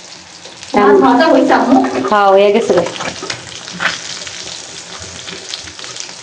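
Tilapia pieces sizzle and crackle in hot oil in a pan, a steady frying hiss running throughout while someone speaks briefly over it near the start.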